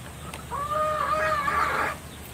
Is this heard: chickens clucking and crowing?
yes